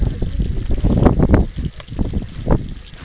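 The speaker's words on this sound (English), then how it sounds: "It's windy again" Gusty wind buffets the microphone at a campsite, coming in irregular rough bursts that swell and fade over a few seconds, loud and close, with no voices.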